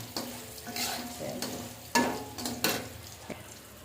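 A vegetable bhaji sizzles steadily in a pan while being stirred, with several sharp spatula scrapes and clacks breaking through the frying hiss, close and fairly loud.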